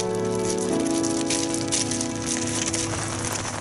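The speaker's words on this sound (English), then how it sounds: "It started raining and then that was it." Steady rain falls at a fishing lake, a dense continuous patter of drops on surfaces, with a low tonal hum running under it throughout.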